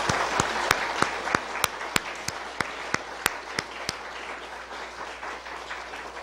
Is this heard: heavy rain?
no